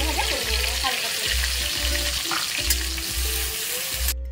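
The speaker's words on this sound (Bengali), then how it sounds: "এবারে আমি ওই তেলের মধ্যেই দিয়ে দিচ্ছি পেঁয়াজ কুচো, ক্যাপসিকাম কুচো আর টমেটো কুচো দিয়ে একসাথে আমি ভাজা ভাজা করে নেব হালকা করে" Chopped onion, capsicum and tomato fry together in oil for a Bengali-style tofu curry: a loud, dense sizzle with rhythmic low thumps from steady stirring.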